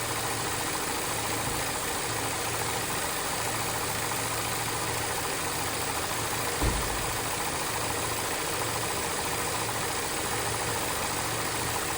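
A VW Mk7 Golf engine idles during a head gasket test, a steady low mechanical drone that holds throughout, with one brief thump partway through.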